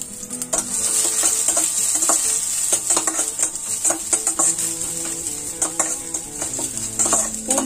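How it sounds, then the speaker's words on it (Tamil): Ten crushed garlic cloves, skins still on, sizzle steadily in hot oil with mustard seeds for spicy puffed rice, with close, continuous frying crackle and repeated scraping stirs throughout. "எண்ணெயில நல்லா ரோஸ்ட் ஆகுற மாதிரி வறுக்கலாம்"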